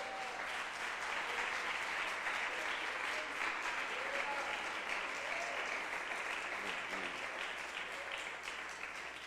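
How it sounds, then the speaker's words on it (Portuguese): A church congregation claps together during a worship service, a dense, steady wash of applause filling the whole stretch at close range, with faint voices murmuring beneath it. "Dê as palmas, louva ao Senhor."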